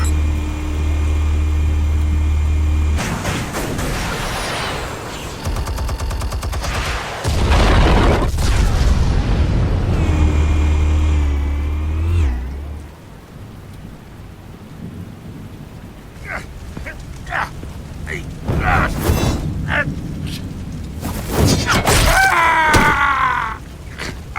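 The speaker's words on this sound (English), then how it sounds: "Explosives armed. Fire when ready." Explosives detonate in Batman: The Telltale Series, a heavy booming rumble with deep rolling blasts that fade into scattered crackling debris and a few sharp impacts.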